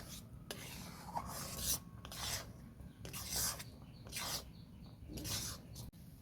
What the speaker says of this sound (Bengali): যাতে না ডেলা ডেলা থাকে এইভাবে নাড়তে থাকতে হবে